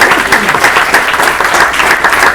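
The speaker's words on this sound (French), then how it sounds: "Les artistes que j'aimerais que vous applaudissiez de nouveau, qui sont Delphine au tam-tam," An audience at a conference bursts into applause for the performing artists, a dense, steady patter of many hands clapping that fills the room for the whole moment.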